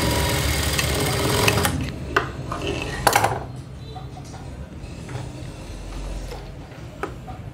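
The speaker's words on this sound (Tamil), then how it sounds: "இதை நான் ஸ்டிச் போட்டுறேன் ஃபோல்ட் பண்ணி." A sewing machine runs in a loud close burst for about two seconds, stitching folded blouse fabric, then stops, leaving scattered clicks, taps and fabric handling.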